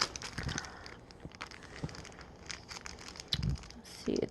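Small foil sample packets crinkle and rustle as they are picked through and handled, in irregular crackling bursts with soft taps, close and quiet, under light background.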